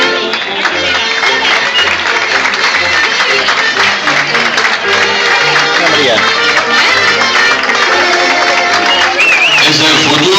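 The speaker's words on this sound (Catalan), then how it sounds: "Un fort aplaudiment també per aquesta gent d'Agramunt" Audience applause and cheering at a sardana dance competition in Agramunt, honouring children from the town, steady and loud throughout with a dense crowd wash and music-like tonal layers beneath.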